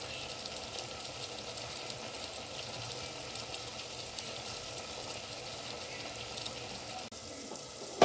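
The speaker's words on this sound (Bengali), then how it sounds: "এবার আমি আরও ভালো করে খানিকক্ষণ কষাবো যতক্ষণ না তেল ছেড়ে আসছে।" Chicken pieces coated with ground coriander, cumin and garam masala sauté in oil for a Bengali-style red chicken curry, giving a steady, dense sizzle that stays loud and even throughout with no voices.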